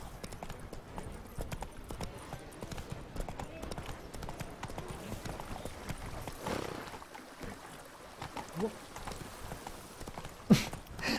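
Horse hooves clip-clopping steadily through a city in The Witcher 3: Wild Hunt – Blood and Wine, a rhythmic trot of moderate loudness continuing for about eleven seconds, with a faint whinny and intermittent talk over it.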